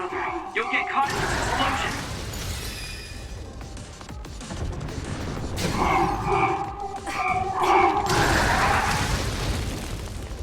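Booming explosions and crashing blasts from the Scarlet Nexus video game roll through a dense, loud mix, with voices talking over the bursts.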